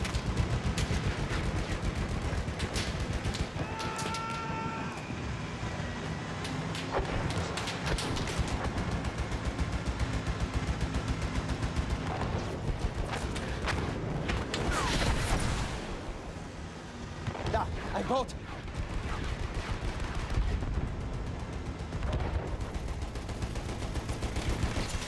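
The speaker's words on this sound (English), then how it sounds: "Feindliches Maschinengewehr!" Enemy machine gun fire in Battlefield 1 chatters almost nonstop for the whole stretch, dense rapid bursts over distant shots and battlefield rumble, loud and close, with a brief lull past the midpoint.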